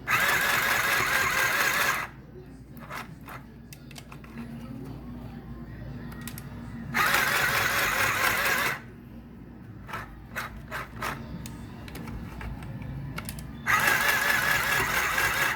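A sewing machine stitches a fabric tote bag in three loud, steady bursts with quieter gaps of handling and scraping between them.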